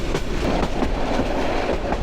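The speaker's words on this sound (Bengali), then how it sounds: "ট্রেন ধীরে ধীরে যাচ্ছে না, আরামসে জায়গায়।" Rhythmic wheel clatter and a steady rumble come from the Kishoreganj Express intercity train rolling along at an easy pace through palm and banana groves, heard close and loud with no talk.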